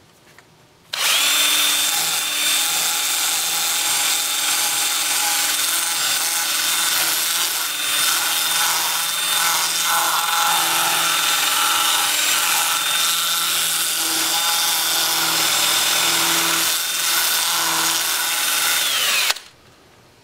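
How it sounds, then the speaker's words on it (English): On a wood lathe, a 2-inch sanding disc grinds against spinning cork bark, a steady, close whirring abrasion that runs unbroken for about eighteen seconds between brief quiet moments at the start and end. "I'll gently sand all the bark. Then I'll switch to my 2-inch disc, starting at 80 grit and working up through 400."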